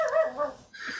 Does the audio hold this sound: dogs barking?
yes